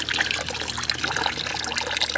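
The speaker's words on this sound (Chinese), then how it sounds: "这米呢，再淘洗一下" Rice is rinsed in water in a pot, a close, continuous wet swishing and trickling with small splashes throughout.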